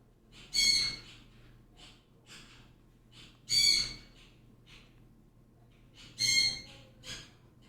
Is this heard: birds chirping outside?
yes